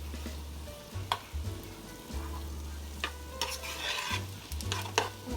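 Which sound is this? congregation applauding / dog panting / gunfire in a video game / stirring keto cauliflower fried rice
stirring keto cauliflower fried rice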